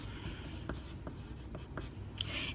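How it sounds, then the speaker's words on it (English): A pencil scratches across paper in a beginner drawing class, close and quiet. Short strokes come in an uneven rhythm of about five or six marks, with faint room noise underneath. "Put your first and your last name on your paper."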